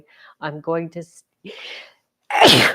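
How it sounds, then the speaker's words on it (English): Speech at the start, then a sharp, loud sneeze bursts out near the end, preceded by a short inhaling gasp. "I haven't sneezed on a live stream before"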